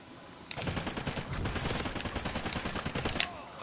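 Rapid bursts of automatic gunfire in the shooter game Call of Duty Ghosts, Search and Rescue mode, rattling loud and close for about three seconds with dense repeated shots and no talking.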